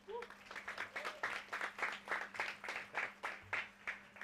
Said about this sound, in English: Let's welcome Mr. Massey with a huge round of applause